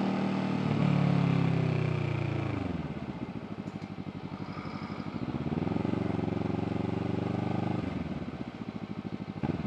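Four-cylinder sport motorcycle ridden with a passenger, its engine note rising and falling through gear changes, loud and close with steady revving pitch sweeps and wind rush.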